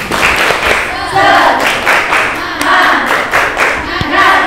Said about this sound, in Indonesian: coba kita tepuk semangat. Tepuk semangat.